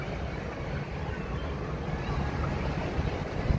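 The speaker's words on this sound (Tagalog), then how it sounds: "Hangin dito." Strong seaside wind roars steadily against the microphone at a resort, a continuous loud rush with a faint surf-like wash underneath and no clear speech.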